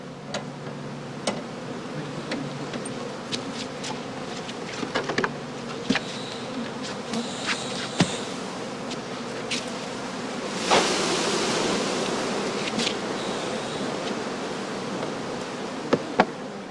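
Honeybees buzzing in a steady droning swarm, with some insects passing close and a louder, rushing stretch partway through.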